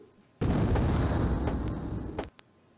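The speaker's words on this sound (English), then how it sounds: "I enjoy the explosion sounds" An explosion in the video game Hunchback 96: a sudden loud blast that rumbles for about two seconds, then cuts off, followed by a brief small pop.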